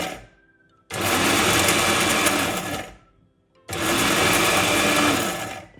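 An electric blender grinds dry biryani masala spices in two loud bursts of steady whirring, each lasting about two seconds, with a short near-silent pause between them.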